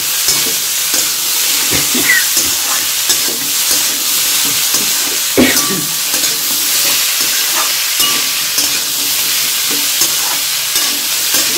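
Masala dosa potato curry stirred and frying in a pan, a steady close sizzle running throughout with repeated scraping strokes of the spoon against the pan.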